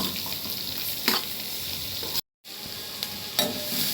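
Roughly chopped onions sautéing in a pan, a soft continuous sizzle with occasional stirring scrapes and a brief dropout midway.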